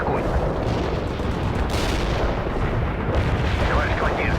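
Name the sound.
artillery barrage in the World in Conflict video game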